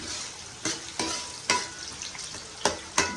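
Onions fry toward golden brown in groundnut oil with a soft continuous sizzle, broken by several sharp spatula scrapes and taps against the pan, and no one talks.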